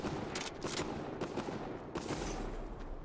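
Video game gunfire crackles in scattered bursts at a distance, fairly faint, with several sharper shots standing out against a steady noisy background.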